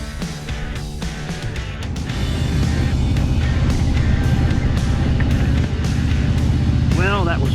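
A motorcycle engine drones steadily on a short ride, loud and close, with heavy wind rush and a rising whine near the end; a voice speaks over it.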